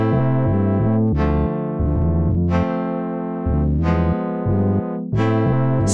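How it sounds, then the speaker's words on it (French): A synthesized, buzzy keyboard tone from a software instrument plays a tense diminished chord in a steady stepping pattern, loud and close, with no voices. "on aura un accord diminué et ça sonne comme ça."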